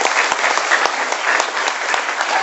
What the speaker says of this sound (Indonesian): Oke, beri aplaus dong buat Anda.